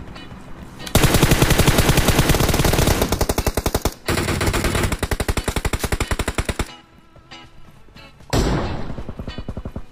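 Rapid gunfire rattles in PUBG Mobile, loud dense bursts of shots in long strings separated by brief pauses, with a lighter stretch before a final heavy burst.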